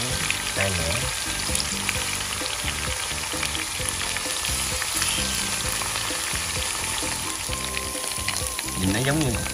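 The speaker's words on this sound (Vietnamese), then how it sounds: "Chiên cá này cũng thơm." A large fish sizzles in hot oil in a pan, crackling steadily and close up for several seconds, with occasional stirring sounds and a brief swell of spattering near the end.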